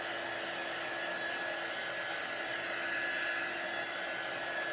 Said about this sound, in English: You can heat it with a hair dryer or you can use your heat tool